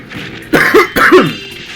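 Two quick, close coughs from a man who is slightly sick with a winter cold, each a sharp burst followed by a short rasp, separated by a brief pause.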